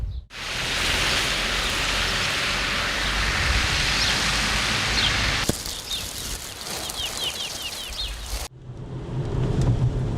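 Steady rain falls in a forest, a dense hiss that continues through several abrupt cuts, with faint bird calls audible in one quieter stretch.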